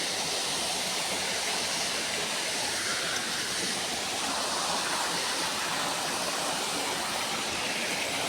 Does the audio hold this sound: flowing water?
yes